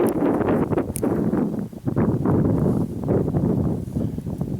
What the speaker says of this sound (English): Boy, this wind's not helping us